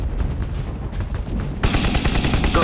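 Rapid bursts of gunfire from the drone strike video game Shadow Strike, loud, with dense repeated shots and a heavier, continuous barrage in the second half.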